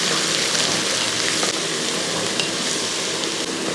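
Crushed shallots hit a hot pan of oil while a chicken dish is being cooked. They give off a steady, dense sizzle, loud and close, that holds evenly throughout with no talking.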